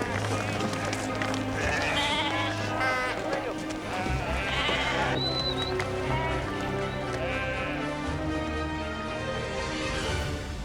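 Sheep bleat repeatedly amid a busy farm scene during sheep catching, with someone talking over the animals and a persistent low rumble underneath.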